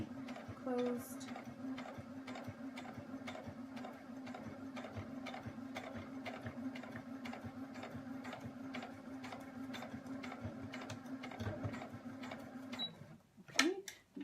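A sewing machine top stitches and back stitches over a zipper in a steady, quiet run of rapid needle strokes, which pauses briefly near the end.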